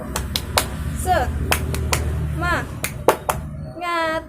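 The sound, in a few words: rhythmic 'tepuk semangat' clapping by teacher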